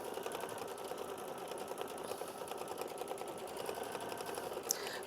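An embroidery machine stitches a quilted butterfly block with a cross-weave fill, a steady rapid mechanical chatter running continuously and fairly close, with a small click near the end and no talk.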